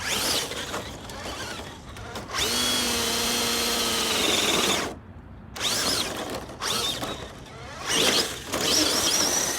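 A TRX6 RC truck fitted with a Hobbywing Axe 3300kv motor drives with a loud, close electric whine that rises and falls in pitch, with a brief quiet gap near the middle and no talking.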